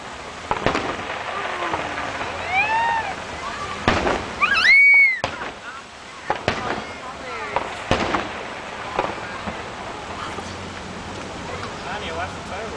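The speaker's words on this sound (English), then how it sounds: "watch the fireworks" Fireworks finale at an outdoor show in Texas: rapid bursts, whistling rockets and crackling pops at varying distances, with people chatting nearby.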